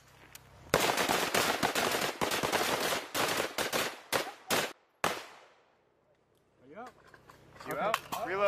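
Rapid bursts of rifle fire during close quarters battle training by U.S. Marines and Filipino troops, loud and dense for about four seconds with scattered final shots, then a pause before shouted commands.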